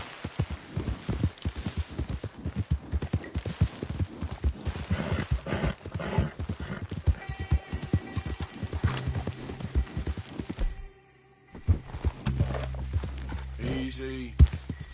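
A horse gallops in the Red Dead Redemption 2 video game, with rapid rhythmic hoofbeats thudding continuously, a short break, then slower steps, under a man's occasional spoken commands.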